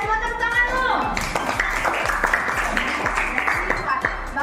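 Schoolchildren clapping together in a classroom during an Indonesian lesson, a quick burst of scattered hand claps that carries on over several seconds alongside voices.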